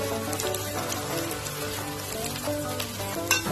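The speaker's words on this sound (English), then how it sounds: "Saute it for 1 minute" Chicken hakka noodles sautéing in a pan, a steady close crackle and sizzle of frying that runs evenly throughout with a few sharper pops near the end.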